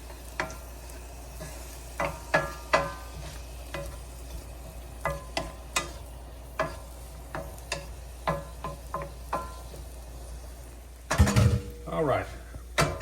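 Garlic sizzles in a pot for New Orleans red beans, a faint steady fry under frequent clinks and scrapes of stirring, with a louder clatter near the end.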